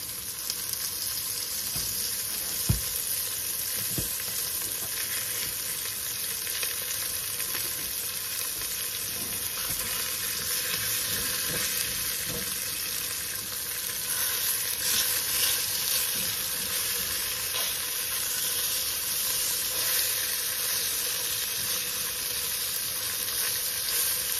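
Pork loin chops sizzle steadily in olive oil in a pot, a continuous close, dense frying crackle with small pops, no voices over it.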